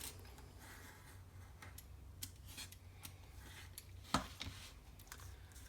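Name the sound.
cutting the paper spine of a mini concertina book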